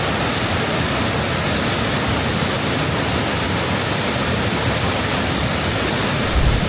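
Mae Sa Waterfall in Chiang Mai roars as a dense, steady rush of falling water, loud and unbroken throughout, with a brief louder splash near the end.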